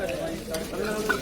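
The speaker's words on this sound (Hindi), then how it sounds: "अब थाली मांजनी है" Metal plates are scrubbed and washed outdoors at an NCC training camp using water drawn from tanks, giving a steady close scraping and rubbing noise with faint clinks and no talking.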